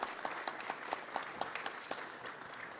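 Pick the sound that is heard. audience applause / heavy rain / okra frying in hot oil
audience applause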